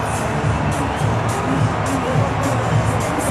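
Stadium crowd at a rugby match applauds and cheers in a sustained, distant roar with scattered clapping and babble.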